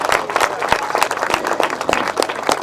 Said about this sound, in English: Hopefully everyone will give him a round of applause